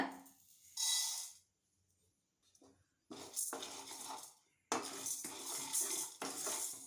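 Toor dal being dry roasted in a pan while rasam powder is made, heard as bursts of scraping and stirring against the metal pan separated by short quiet gaps, close and moderately loud with no talking.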